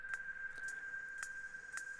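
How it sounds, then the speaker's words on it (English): A modular synth hi-hat, clocked in eighths with roughly 30% probability, ticks irregularly as bright, short metallic taps over a sustained high tone in an ambient patch, faint and sparse. "I've also got a hi-hat sound being triggered by"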